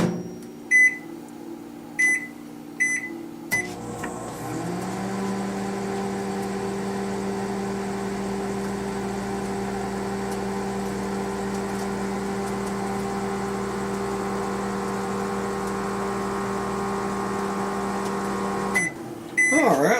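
A microwave oven runs while cooking an egg: a few button beeps, then the door shuts and a steady low electrical hum drones for about fifteen seconds before stopping with a final beep.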